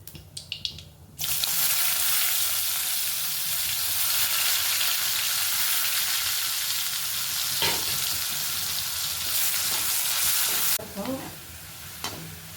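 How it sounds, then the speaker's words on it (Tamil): Garlic and onion fry in a pan in a home kitchen, a loud continuous sizzle that bursts in after a few light clinks and runs steadily for about ten seconds before stopping, with faint utensil taps near the end. "பூண்டு போட்டு கொஞ்சம் வெங்காயம் போட போகிறேன்."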